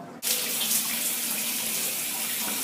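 Tap water runs steadily into a sink while rinsing a face scrub off, a continuous close splashing hiss that starts abruptly after a brief quiet moment and carries on unbroken.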